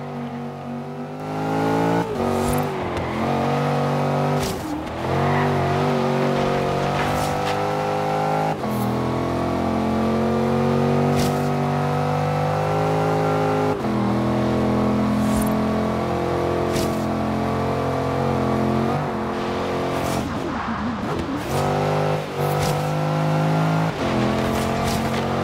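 A Range Rover SV engine in Forza Horizon 3 drones steadily and loudly throughout, with a rising and falling rev pitch, occasional gear-change dips and brief tire and impact noises during racing.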